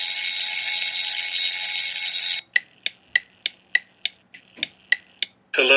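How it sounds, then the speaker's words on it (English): A school fire alarm rings as a steady continuous tone, then cuts to a rapid run of sharp repeated beeps in even rhythm, loud and with no voices. "How dare you pull the fire alarm?"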